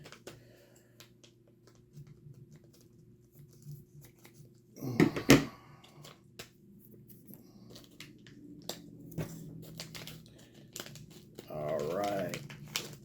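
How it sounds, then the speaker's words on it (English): Scissors cut open a plastic parts bag from Injara for a Jeep JLU spare tire carrier: a short burst of sharp crinkling and snipping stands out in an otherwise quiet room, with someone talking later. "In the bag here, let me get some scissors, open up this bag."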